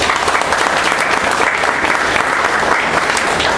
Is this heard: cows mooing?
no